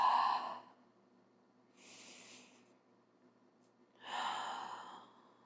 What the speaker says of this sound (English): We'll start by breathing in through the nose and out gently through the mouth.